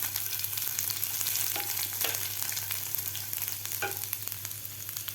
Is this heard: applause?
no